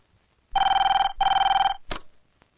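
A telephone rings loudly and close by in a Telugu comedy film scene: two long, bright, warbling rings in quick succession, then a short click and a fainter trailing tick, with no talking over it.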